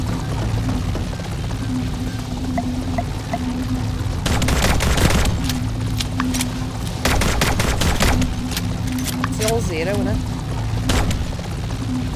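Rapid bursts of gunfire in the video game My Time at Sandrock, clustered volleys of sharp shots repeating in quick runs over steady game ambience, with a player talking between bursts.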